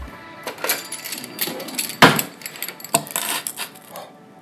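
A knife cuts through a crispy flatbread pizza, giving rapid crackling crunches and scraping at close range, with one sharper snap partway through and no talking.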